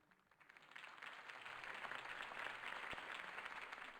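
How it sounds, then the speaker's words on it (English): Crowd applause following a campaign speech in Batman: The Telltale Series, a quiet wash of many hands clapping that swells after the first second and holds steady, with no voices over it. "If only Mr. Wayne, my campaign's largest backer, could have heard that applause"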